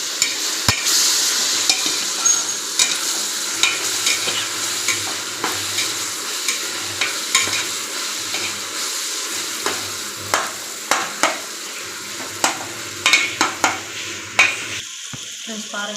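Tomatoes and ginger garlic paste sauté in a pan for a home-style biryani, a steady sizzle broken by repeated scraping stirs, close and alone with no talk.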